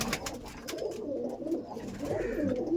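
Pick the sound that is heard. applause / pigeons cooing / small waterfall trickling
pigeons cooing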